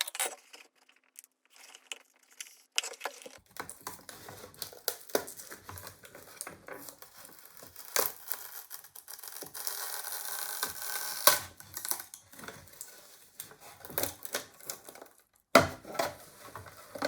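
Crackling, creaking plastic and scraping clicks come in irregular bursts as the two halves of an Alfa 155 wing mirror are pried apart. Handling noises are close and fairly quiet, with short pauses between the efforts.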